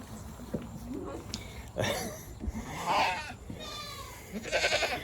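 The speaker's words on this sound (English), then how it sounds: "I love these goats." Goats bleat repeatedly at close range, wavering cries over a busy farmyard background, while a person talks nearby.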